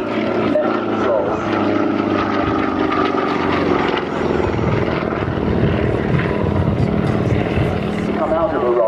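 Steady propeller engine drone from an aerobatic aircraft flying a roll at Shoreham Airshow, continuous and loud, with someone talking over it throughout.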